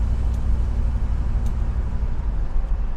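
Engine of a 1966 Ford Mustang GT Fastback running steadily while shifting into fourth gear, a loud continuous low rumble from inside the car with no break in the drone.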